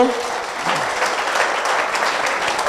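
An audience claps steadily throughout at a French-speaking seminar on choosing a spouse, a dense, sustained round of applause that begins right after a voice speaks.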